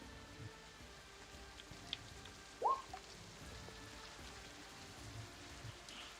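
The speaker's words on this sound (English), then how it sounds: "Is this a common expectation with this rain, or is it like uncommon to have this during this season?" Steady rain patters outdoors as a continuous, even hiss of drops on surfaces, with one brief sharper sound standing out partway through.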